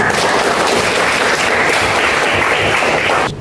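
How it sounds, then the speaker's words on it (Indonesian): Steady classroom applause for a student, many hands clapping loudly and evenly for about three seconds before stopping abruptly. "Beri aplaus untuk Mas Aidil."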